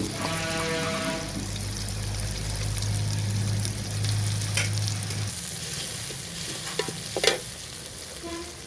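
Onions and tomatoes sauté in a pan for a cauliflower fry, giving a steady close sizzle with stirring scrapes throughout. A low hum sits underneath for the first few seconds, and there is no talking.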